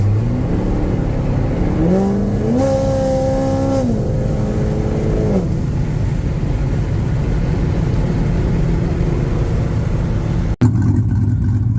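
Chevrolet Corvette C7 Z06 engine revving on a street, a loud close roar that climbs through rising pitch sweeps, settles into a steady drone and ends in a sharp thump.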